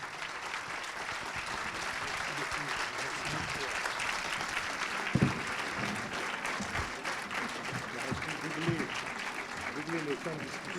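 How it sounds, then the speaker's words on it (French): Audience applause at a book discussion event held at a prefecture, steady and moderately loud clapping filling the room, with some voices and murmuring mixed in. "Il faut applaudir Éric Roussel."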